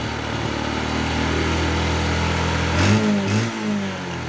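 A Honda Revo Absolute motorcycle with a weak battery idles at close range, then its engine revs up twice in quick throttle blips, rising in pitch before dropping back to a steady idle, with no voices heard.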